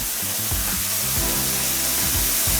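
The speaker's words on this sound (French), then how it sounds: "Donc je vais les passer à la moulinette." Soft cooked tomatoes and onion being cranked through a hand food mill, a loud continuous grinding churn with a repeating rhythmic pulse of the turning blade, close and without talk.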